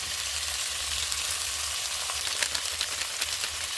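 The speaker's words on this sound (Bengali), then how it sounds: "নাড়াচাড়া করে দেবো, অল্প সাঁতলিয়ে দেবো" Mixed vegetables (flat beans, potato, radish, eggplant) with turmeric, salt and chili powder sautéing in a pan, a dense continuous sizzle up close with faint stirring scrapes, no talking.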